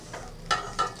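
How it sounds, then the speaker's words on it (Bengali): Pabda fish frying in hot oil, a soft steady sizzle with two brief louder crackling bursts, quiet and close, no voices. "তেল গরম হয়ে গেছে এখন মাছগুলোকে ভেজে নেবো"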